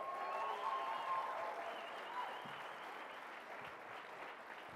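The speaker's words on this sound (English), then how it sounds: "I think we should give David a warm round of applause" Warm applause from an audience at a live podcast awards show, a continuous wash of many hands clapping at moderate distance, slowly easing in intensity with faint voices mixed in.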